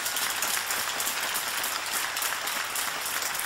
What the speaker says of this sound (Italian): Per lui un applauso.